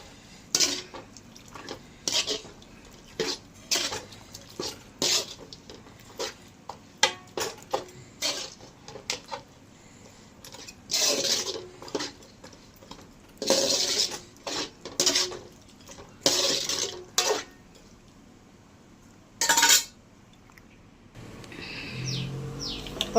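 Boiled mutton head meat is mixed into a Chennai-style curry in a pot, with bursts of metal spoon clatter and scraping separated by quiet pauses, close and fairly loud.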